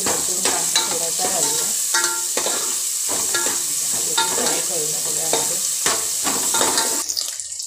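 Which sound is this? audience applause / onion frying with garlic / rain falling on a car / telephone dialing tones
onion frying with garlic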